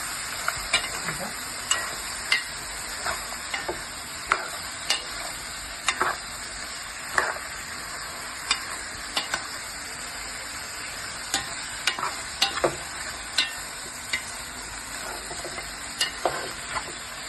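Mutton head curry frying and sizzling in a pan, with a spoon scraping and stirring through it in a steady series of soft clatters over a constant hiss.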